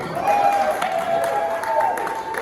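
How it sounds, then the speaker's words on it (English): A concert crowd at a 20-years-on-stage show applauds in a continuous, moderately loud wash of clapping with some cheering, while a voice speaks over it. "they're going to clap for him again"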